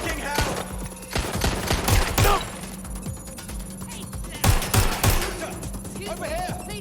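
Rapid gunfire during an active shooting, with repeated sharp loud bangs in clustered bursts, some close and some echoing, mixed with shouting voices.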